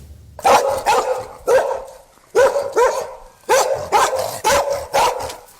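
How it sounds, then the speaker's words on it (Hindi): A dog barks on a street in loud, close bursts, firing off about nine sharp barks in quick clusters with short pauses between, and no one talking. "सड़क पर कुत्ते की भौंकने की आवाज"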